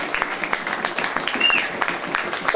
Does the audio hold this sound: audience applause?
yes